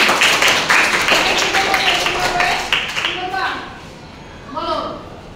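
A class claps loudly together in a burst of quick, dense hand claps that fades out, followed by a voice speaking.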